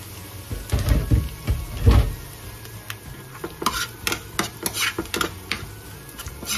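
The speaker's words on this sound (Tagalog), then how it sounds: "lutuin muna natin ang bawang at sibuyas" Garlic and onion sautéing in a pan with stirring, a spatula scraping and clattering in bursts against a soft background sizzle, close and moderately loud.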